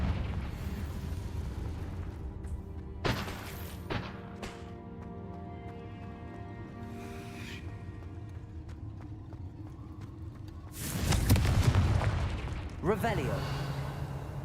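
Spell blasts from Confringo casts in the Hogwarts Legacy video game, a few sharp bursts around the middle and a bigger, rumbling explosion near the end, heard over a steady game soundscape while a player shouts spell names.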